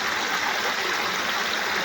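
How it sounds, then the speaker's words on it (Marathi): A stream flows at night during torchlight crab fishing, a steady close rush of water with no voices. "पाणी कसं वाहते ते"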